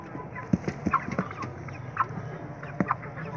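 White broiler chickens, 36 days old, cluck and chirp in short scattered calls around a poultry house, moderately near over a steady low background hum.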